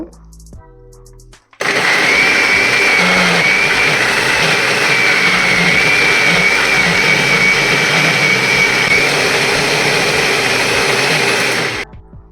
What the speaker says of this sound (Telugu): ఇప్పుడు ఇవి మిక్సీ పట్టేసుకుందాం